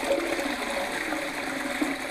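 A toilet flushes in the bathroom of an abandoned California bungalow, a steady rush of water heard close and alone for the whole stretch.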